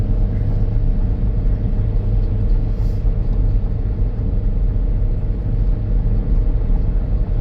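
A 2013 Chevy Captiva, probably a small four-cylinder, climbs a hill with a loud steady engine drone and road rumble heard from inside the cabin, continuous and unbroken.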